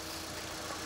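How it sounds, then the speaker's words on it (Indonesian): A 2018 Suzuki SX4 S-Cross facelift with a 1500cc engine idles evenly, a smooth, steady hum without any roughness or breaks. "Dan ini suara mesinnya."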